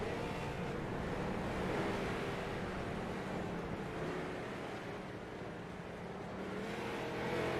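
Derby race car engines roar and rev continuously at a seasonal stock car event, a dense, loud mechanical drone with the rumble of several cars circulating the track together.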